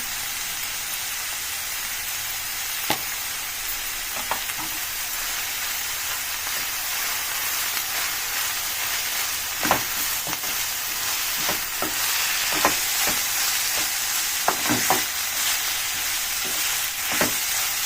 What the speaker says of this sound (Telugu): మెంతన్ కూర మంచిగా వేగిందండి మంచిగా ఫ్రై అయింది